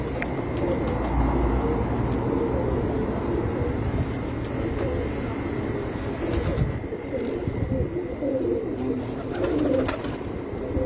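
Low, throaty cooing from a flock of pigeons on a rooftop runs continuously under a steady background hum.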